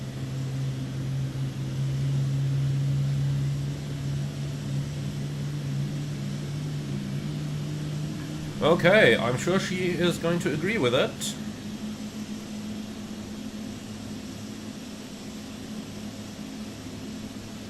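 Boeing 777 engines spinning up on the ramp in a flight simulator with the PMDG BORIS soundpack, a steady low turbine hum and whine throughout, with someone talking briefly midway.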